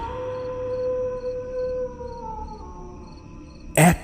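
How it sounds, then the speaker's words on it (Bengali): A jackal howls far off at night in long, wavering tones that slowly fall, over a pulsing chorus of crickets, and a brief thump comes at the end. "হঠাৎ দূরে কোথাও একটা শিয়াল ডেকে উঠলো"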